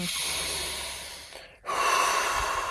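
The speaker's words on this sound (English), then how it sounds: "you start breathing deeper and faster, but without the running" Deep, rapid breaths rush in and out in a controlled hyperventilation exercise, close and loud, with a brief pause midway before forceful breathing resumes; no talking.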